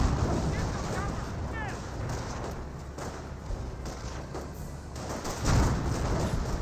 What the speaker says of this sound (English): Artillery now raining on in.